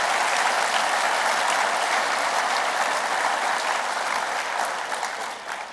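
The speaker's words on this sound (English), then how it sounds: "Let's clap hands one more time for the sponsors." A convention audience claps for the sponsors during a presidential address: dense, sustained applause from a large room, even and continuous, thinning a little in the final second.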